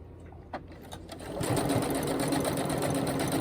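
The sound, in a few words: sewing machine back-stitching ribbon onto webbing for a key fob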